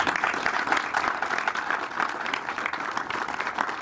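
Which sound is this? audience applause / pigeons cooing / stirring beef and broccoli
audience applause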